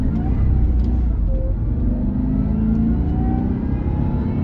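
A 2006 Jaguar Super V8 Portfolio with a supercharged V8 accelerates hard, its engine note rising smoothly as a steady, muffled roar heard from inside the cabin, with faint whine over road rumble.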